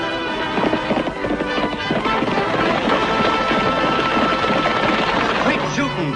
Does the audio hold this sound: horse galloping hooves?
yes